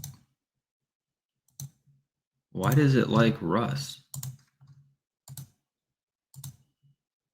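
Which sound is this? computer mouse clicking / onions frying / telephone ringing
computer mouse clicking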